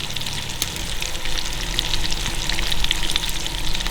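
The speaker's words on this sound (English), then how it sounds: "I'm just wondering how many minutes of frying bacon I would listen to." Bacon sizzles and crackles steadily in a hot pan, a dense hiss with scattered pops, close and continuous.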